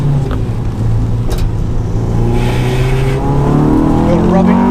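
A modified Honda Civic EK hatchback race car with a VTEC engine roars loudly from close by, holding a steady high drone whose pitch climbs gradually through the run.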